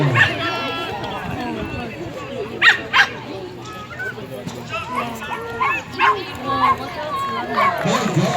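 Flyball dogs at the Saanich agricultural fair give repeated yips, barks and whimpers, several sharp bursts standing out over steady crowd chatter and someone talking throughout.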